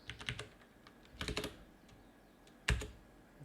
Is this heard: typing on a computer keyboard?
yes